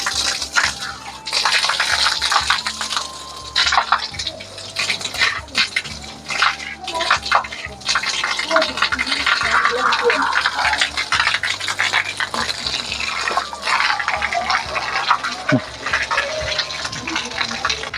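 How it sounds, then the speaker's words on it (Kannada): Water from a year-round spring at Shridhara Tirtha splashes and gushes continuously, close by, with scattered clatters and faint voices in the background. "ಟ್ವೆಂಟಿ ಫೋರ್ ಅವರ್ಸ್ ನೀರು ಬೀಳ್ತಾನೆ ಇರುತ್ತೆ"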